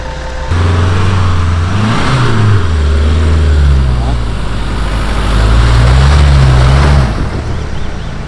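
A Land Rover Discovery Sport driving off-road, its engine droning steadily with pitch rising and falling as it works over rough ground, with wind and rumble around it and a voice speaking over it.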